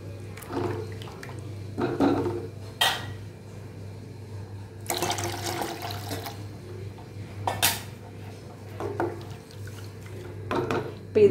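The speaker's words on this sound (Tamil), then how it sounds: "இப்போ இன்னும் கொஞ்சம் தண்ணி ஊற்றிக்கலாம்." Water splashes and trickles into a pan of pavakkai pitlai in several short bursts, separated by quiet pauses and light clinks of cookware. The sound is close and fairly soft, and no one speaks.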